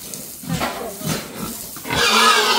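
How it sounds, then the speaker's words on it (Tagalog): Pigs on a farm grunt and squeal in short bursts, close and fairly loud, with a harsher squeal near the end. "Ito po yung mga baboy ni Tito Lito."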